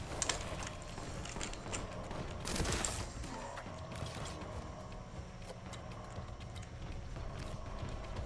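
An auto gun cultist fires in Warhammer 40,000: Boltgun, a steady rattle of game gunfire and mechanical noise that keeps up throughout, with a brief louder swell partway in.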